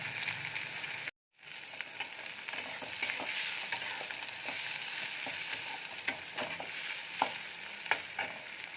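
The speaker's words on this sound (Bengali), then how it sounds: "দিয়ে পেঁয়াজটা একটু ভাজা ভাজা করে নেব।" Chopped onions and green chillies fry in hot oil in a wok, giving a steady, close sizzle broken by scraping stirs and sharp spatter pops throughout after a brief silent gap near the start.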